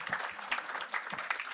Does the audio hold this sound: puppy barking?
no